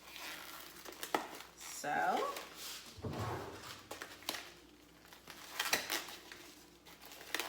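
Ground pork and sweet Italian sausage are added to a hot pan, giving a soft sizzle with scraping and the thump of meat dropping in, under a person's talk.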